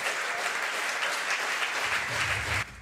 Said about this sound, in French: tonnerre d'applaudissements, s'il vous plaît